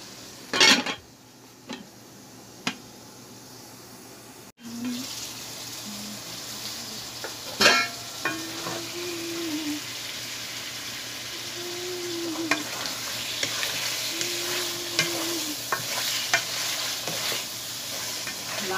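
Koi fish with bottle gourd sautés in a pan, a soft continuous sizzle broken by sharp spatula scrapes and clanks against the metal, with a louder stretch of stirring and frying in the second half.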